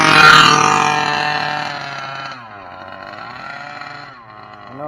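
A gas Losi 5ive-B RC car engine revving loud and close, then dropping back to a lower buzzing idle with a wavering clutch or flywheel hum, rising again at the end.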